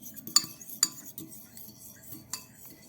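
Eggs whisked in a bowl with a metal utensil by a child in a home kitchen: sharp clinks against the bowl at irregular intervals over a soft, steady scraping, fairly quiet and with no talking.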